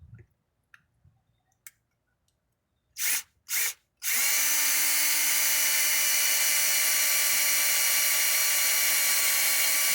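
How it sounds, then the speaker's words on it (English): Power drill boring a hole in a 2010–2014 GM door panel during repair: a couple of short trigger bursts, then a loud, steady high-pitched whine running continuously, close up with no talk. "I'm going to drill a hole here."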